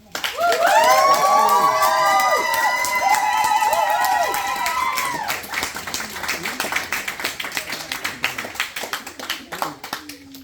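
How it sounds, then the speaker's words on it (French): Wedding guests applauding and cheering the newlyweds at a French ceremony: loud whoops and high shouts over a roar of clapping at first, then thinning to scattered claps and chatter. "je vous adresse mes meilleurs vœux et on les applaudit."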